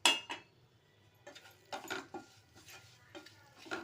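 A spoon stirs mango pickle mixture in oil in a pan, making soft, fairly faint scraping strokes and light metallic clinks in uneven bursts, with no voices.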